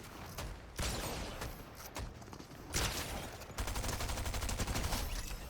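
Rapid automatic fire from a Stinger SMG in a video game, short sharp bursts stopping and restarting, then a steady stream of shots near the end, amid game noise.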